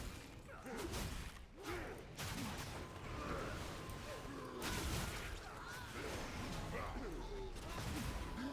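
Gunners firing in a World of Warcraft: Warlords of Draenor Timewalking battle: repeated rough volleys and crashing bursts in a steady, dense din of combat noise, with voices shouting over the fighting.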